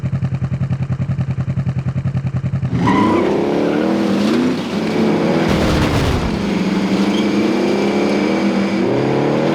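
A car in Call of Duty: Modern Warfare idles with a rhythmic rumble, then starts driving off and revs up into a loud, sustained engine roar that rises and shifts in pitch, close and in front.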